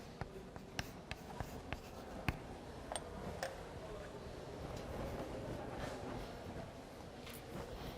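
Chalk tapping and scratching on a board during a surface-integral calculus lesson, with short sharp ticks spaced irregularly over a steady room hiss; the strokes are moderately close and faint.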